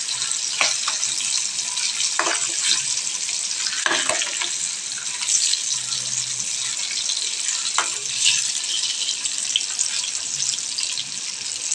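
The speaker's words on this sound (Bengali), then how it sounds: "তো দেখো ভালো মতন আমি মাছগুলোকে একটু হালকা তেলে ফ্রাই করতে দিয়ে দিয়েছি।" Hilsa fish fry in a small amount of oil in a pan, giving a steady, bright hiss with scattered pops and crackles throughout, heard close with no talking.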